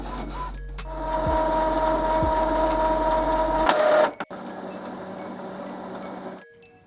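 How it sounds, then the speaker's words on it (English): An Epson XP4100 inkjet printer checks its newly replaced ink cartridges, whirring and humming mechanically close up with a couple of clicks before the motor stops, then a quieter hum that fades out. "The printer will just double check the cartridges, make sure it's completely happy"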